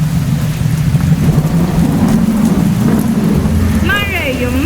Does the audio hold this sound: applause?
no